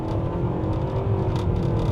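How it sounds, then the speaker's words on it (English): A 2025 Mitsubishi Outlander SEL Premium with a CVT pulls away from a stop, a steady engine drone heard from inside the cabin, rising only slightly in pitch over two seconds. "You can try one out off the line."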